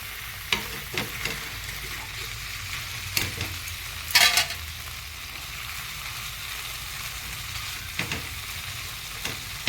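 Tandoori-style butter chicken frying slowly over low heat in a pan, a steady soft sizzle with occasional louder crackles and scraping stirs, heard alone without talk.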